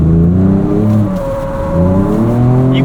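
A 2024 Ford Ranger Raptor pickup drifts on a race track, its engine holding a loud, sustained roar that rises and falls in pitch through the slide, heard up close with no talking.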